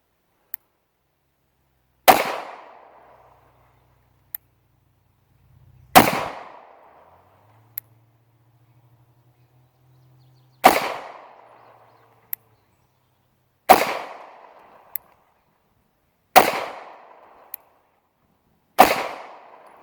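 A Springfield Hellcat 9mm pistol fires six loud, sharp gunshots at uneven intervals, each with a brief ringing decay, and fainter pops from other shooters come between them.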